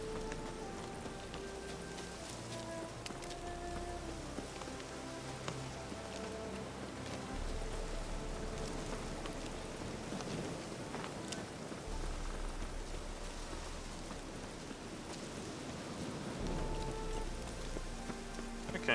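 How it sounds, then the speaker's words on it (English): Steady rain falls in the video game Witcher 3, a soft continuous patter that stays low and even for the whole stretch, with faint game music and ambience underneath. "Looks like rain."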